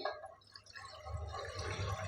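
Water poured into a kadhai on a gas stove for cooking vermicelli, a soft, fairly faint dribbling and splashing that builds toward the end, with no talk.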